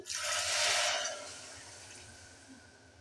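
Water pours from a container into a pot of chicken curry, a steady splashing rush lasting about a second before fading into quiet kitchen background.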